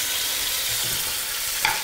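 Butter sizzles steadily in a hot pan beside a pan-seared sea bass fillet, a close, continuous frying hiss with a brief sharper clink near the end.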